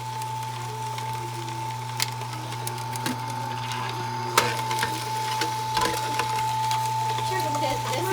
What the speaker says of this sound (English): is an amazing machine to grind the split peas